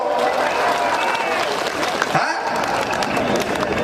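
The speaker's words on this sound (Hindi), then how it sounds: "ठोको ठोको ताली ठोको" A large outdoor crowd at a Congress political rally in Kishanganj clapping, a continuous loud wash of applause with faint voices mixed in throughout.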